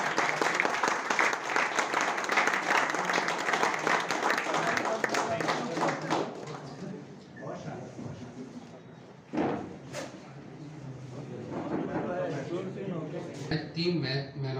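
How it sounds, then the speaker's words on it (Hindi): Loud audience applause at a cricket tournament closing ceremony in Ajmer as the winning team and captain come up for the trophy, dense clapping for about six seconds, then fading into scattered claps, murmuring voices and a few bumps. "जोरदार तालियां बजाएंगे"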